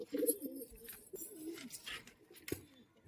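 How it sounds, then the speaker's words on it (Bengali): Matras pigeons coo in low, throaty bursts, strongest at the start with a few softer coos after, against a faint busy background of other birds and noise. "হচ্ছে ম্যাট্রাস পায়রা না"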